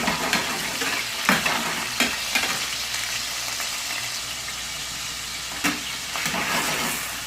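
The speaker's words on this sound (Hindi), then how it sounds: "चिकन को बिल्कुल हल्का सा फ्राई करना है।" Small chicken leg pieces lightly frying in a pan for chicken shashlik, a steady close sizzle punctuated by several sharp stirring clanks of utensil against the pan.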